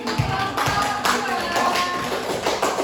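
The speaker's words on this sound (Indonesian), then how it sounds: "berikan aplaus" Audience applause after a group presentation, a dense patter of many hands clapping steadily for about three seconds, close and moderately loud.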